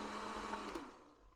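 Countertop blender pureeing a pot of winter soup, a steady loud whirring motor drone that holds for about a second before winding down and fading.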